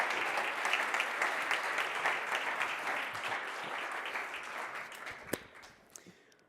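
At an AI accelerator demo day, an audience breaks into steady applause that runs for several seconds, then tapers off with a few last scattered claps.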